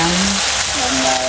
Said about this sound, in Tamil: தக்காளி பழத்தை போட்டு நல்லா வதங்க விட்டு சமைப்போம்